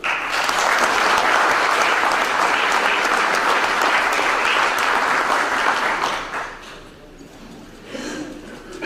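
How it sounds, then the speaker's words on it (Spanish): Forum audience applauding a newspaper director as he is introduced, a sustained full round of clapping that tapers off after about six seconds into room quiet with faint scattered sounds. "para el cual pido un fuerte aplauso"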